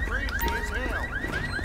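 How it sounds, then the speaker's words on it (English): A car alarm in the video game GTA 5 wails in a rapid repeating up-sweep, each cycle rising in pitch, steady and fairly close with no voices. "Now hear a car alarm."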